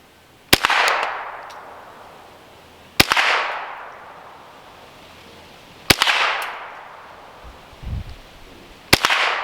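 Four sharp, loud rifle shots from a Ruger 10/22 firing CCI Mini Mag .22 ammunition at targets about 25 yards out, evenly spaced roughly three seconds apart, each with a decaying outdoor echo.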